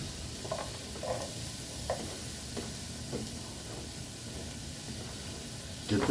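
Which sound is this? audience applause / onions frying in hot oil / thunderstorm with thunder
onions frying in hot oil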